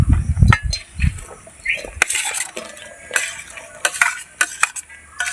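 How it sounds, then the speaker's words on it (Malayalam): Finely sliced onions, four of them, tipped into a pan and stirred for a chicken dish, with loud spatula scrapes and metal clatter over a light sizzle, close by. "ഈ സബോള തട്ടി കൊടുക്കാം കേട്ടോ."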